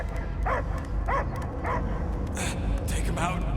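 In the Guardians of the Galaxy video game, a dog barks and yips in a few rhythmic bursts, then gives higher whimpering cries over a constant low rumble.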